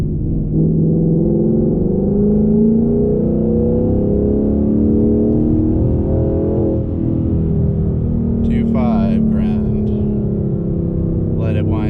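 A tuned 2019 Ford Mustang GT V8 accelerating in third gear, a loud, steady engine drone that rises in pitch as it pulls, heard from inside the car, with a voice speaking briefly near the end.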